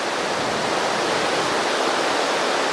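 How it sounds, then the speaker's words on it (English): A raging river swollen with snowmelt near Baker Lake below Mount Baker roars steadily and loudly, a dense unbroken rush of water close by with no voices. "What's next to me is kind of a raging river. There's probably all the snow melting off."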